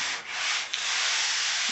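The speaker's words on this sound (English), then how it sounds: "I get to go sanding now" Steady, close sanding across bodywork on a 1972 Chevy truck bed, a continuous loud rasping rub with two brief dips in the stroke.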